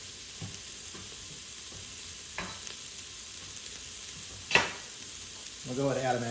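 Turmeric and red chili sautéing in a pan for yellow toor dal, a soft steady sizzle running throughout with a few sharp clinks of utensils and a brief stirring scrape near the end.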